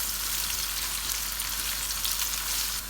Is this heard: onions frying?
yes